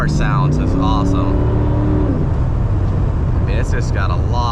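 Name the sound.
1985 car engine accelerating on highway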